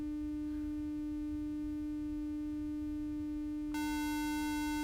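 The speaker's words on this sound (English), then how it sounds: "Here's the saw wave blended with the sine wave." Synthesizer tones from a panning plugin: a steady sawtooth wave blended with a sine wave, a sustained buzzy harmonic drone that brightens and grows louder near the end, with no voices.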